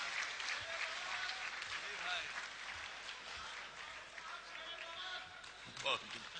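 A mushaira audience welcomes poet Dr. Rahat Indori with continuous, fairly distant applause, a soft crackling wash of many hands with some voices mixed in.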